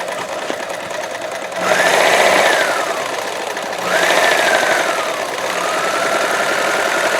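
A sewing machine runs a stretch stitch pattern with a fast mechanical chatter, in two bursts that each swell and then settle to a steady hum, close and clear, with no voices.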